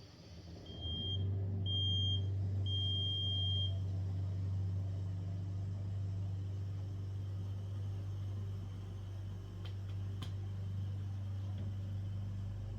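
A carbon monoxide breath monitor gives three short high-pitched beeps over a steady low mechanical hum, followed by a long stretch of the hum alone with faint clicks.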